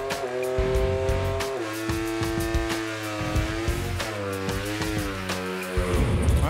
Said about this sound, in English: Wow, sounds like a rotary engine.